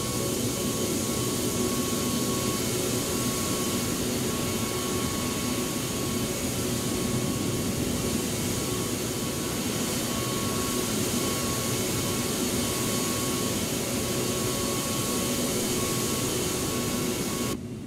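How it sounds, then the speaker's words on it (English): A jet airliner arrives in the video game AirportSim at Key West Airport, a steady, loud whining roar of engines that holds unbroken throughout with no voices over it. "plane is coming."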